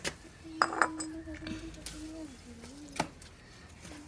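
A vessel is set down with a few sharp clinks and knocks in a home garden, alongside a voice talking about chilli plants.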